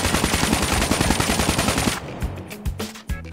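A KN-44 rifle fires in rapid automatic bursts in Call of Duty while aiming down sights. The shots come as a loud, dense rattle for two seconds, then a few sparser shots and clicks follow.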